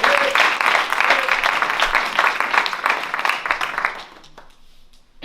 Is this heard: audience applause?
yes